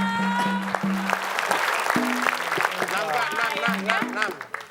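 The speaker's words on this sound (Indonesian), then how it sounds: "Berikan tepuk tangan dong." Studio audience applause on an Indonesian television quiz show, a steady wash of clapping lasting several seconds beneath voices and sustained musical tones.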